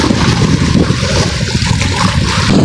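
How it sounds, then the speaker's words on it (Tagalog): Strong river current rushes steadily at a popular fishing spot, mixed with gusting wind buffeting the microphone, a loud, continuous, full roar throughout with no speech. "Hey, lakas ng agos,"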